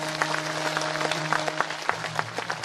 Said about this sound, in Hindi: बजा लो अपने लिए जोरदार तालियां।